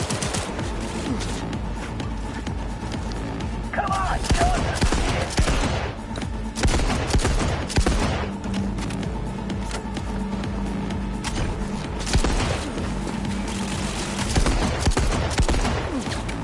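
Gunfire in the video game Cyberpunk 2077, dense rapid bursts and volleys mixed with thuds and mechanical clatter, continuous and fairly loud across the whole stretch.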